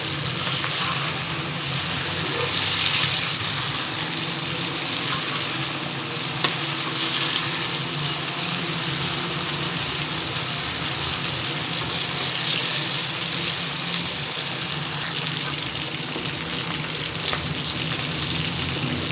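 Chicken fries and browns in a kadai for Chicken Shinwari, sending up a dense, steady sizzle close by with faint stirring scrapes throughout and no talking.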